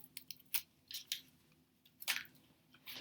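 Adhesive tape peeled in short, crisp tearing bursts from a handmade wampum bracelet, several quick separate rips spread across a quiet moment, close and fairly faint.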